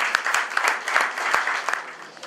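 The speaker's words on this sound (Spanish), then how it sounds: "un fuerte aplauso para Juan Andrés" An audience gives a short round of applause for a performer at an open-mic music event, steady moderate clapping with a few sharper claps standing out.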